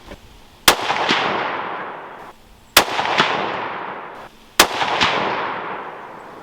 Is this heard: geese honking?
no